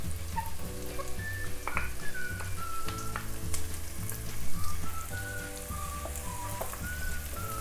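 Chili pepper sautéing with potatoes and fenugreek leaves in a pan, a steady loud sizzle and crackle of frying throughout with no talking.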